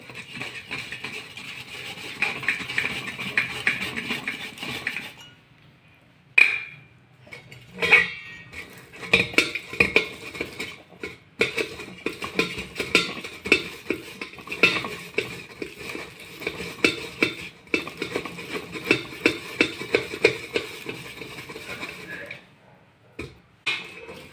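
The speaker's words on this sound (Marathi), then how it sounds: "तर आता आपण हे बटाटे चाळणीमधून काढून घेऊया।" Boiled potatoes are scooped out with a metal sieve held over a pot, giving repeated close clinks and scrapes of metal on metal in irregular bursts with short pauses.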